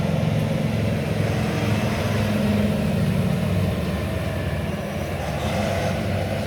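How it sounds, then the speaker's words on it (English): A truck rumbles steadily past close by, a continuous loud low engine drone with a heavy bass hum that holds its level for the full stretch, with no voices over it. "I'll just let that truck rumble on by"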